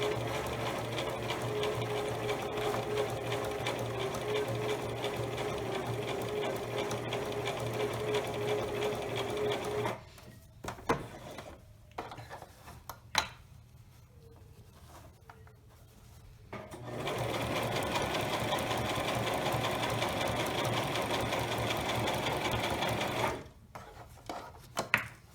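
A sewing machine stitches fabric lining for an eyeglasses pouch in two long, steady runs with a quiet gap of soft handling clicks between them, and a short final burst at the end.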